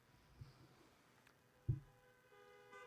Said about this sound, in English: I love that honking